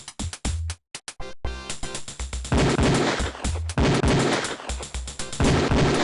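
Repeated Beretta pistol shots on a police firing range in the Police Quest 4 video game: a few sharp separate shots, then dense rapid volleys of loud gunfire with no talking.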